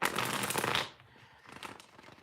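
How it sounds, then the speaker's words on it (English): Tarot cards are shuffled up close, a dense crisp riffling burst followed by a brief pause and a quieter second round of soft card flicks. "One more shuffle for you."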